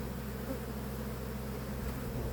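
Honeybees buzz around an opened hive as the season is wrapped up, a dense, steady hum close by with no voices.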